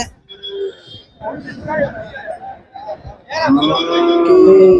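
Bulls and cattle at the Manapparai cattle market, including oxen trained for cart and plough, low and bellow in loud drawn-out moos, one swelling strongly near the end, amid someone talking and market noise.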